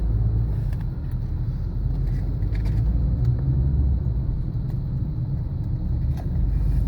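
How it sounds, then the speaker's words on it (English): Stop-and-go highway traffic wedged between trucks beneath an overpass, heard from inside a car: a steady, loud low engine and road rumble drones throughout with no talk. "We're stuck in stop and go traffic here."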